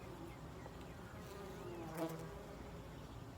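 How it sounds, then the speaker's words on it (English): Cordovan honey bees buzz steadily around hives in a food forest, a soft continuous drone with one bee passing close for a moment partway through. "I love my little Cordovan bees"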